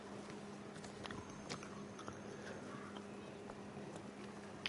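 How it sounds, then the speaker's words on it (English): Someone chews honeycomb close to the mic, with soft irregular bites and crunches scattered over a low steady hum. The sounds are faint and no one speaks. "eating honeycomb if you hear me chewing"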